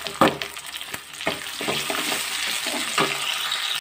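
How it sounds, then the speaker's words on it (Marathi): Chopped tomatoes roasting in a pan with onions for Goan-style oyster curry, a steady close sizzle broken by sharp spatula scrapes and stirring clicks. "रोस्ट जाल्लो आसा तातूंत हांव चिरिल्ले टोमॅटो घालून तेवूय बरे रोस्ट करून घेता."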